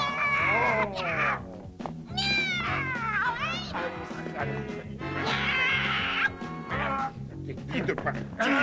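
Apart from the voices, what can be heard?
cat meowing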